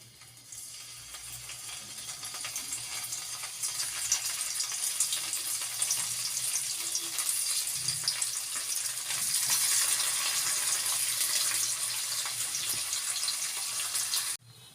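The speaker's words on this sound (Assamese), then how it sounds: "এতিয়া মই পনীৰকেইডোখৰ অকণমান ৰঙচুৱাকৈ ভাজি ল'ম" Paneer pieces fry in refined oil in a wok, a steady hissing sizzle that runs continuously and slightly intensifies midway, with no talking.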